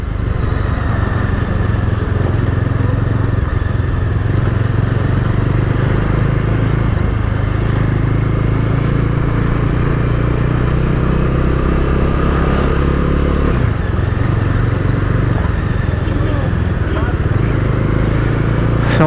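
A Bajaj Dominar 250 motorcycle rides through heavy city traffic in Madurai, its engine a steady close drone with wind noise and surrounding traffic rumble throughout.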